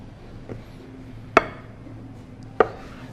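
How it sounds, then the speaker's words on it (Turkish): A knife chops a ripe avocado on a cutting board, two sharp close chops about a second apart, with a fainter tap before them and quiet room tone between. "Zaten iyice olmuş bir avokado. Doğrayıp kabımızın içine atıyoruz efendim."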